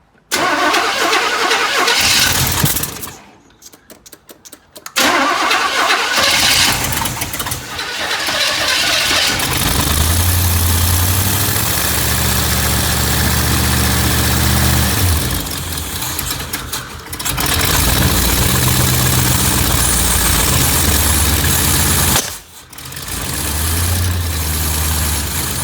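A 1984 Chevy Blazer barn find cranks, catches and settles into a loud, steady idle, with brief cutouts and restarts in between, close by and without talking.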